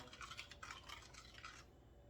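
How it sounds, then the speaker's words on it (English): A spoon scrapes and swirls steadily around a bowl of yeast mixture for coco bread, soft rhythmic stirring close by for a couple of seconds, then it stops. "Give that a nice stir."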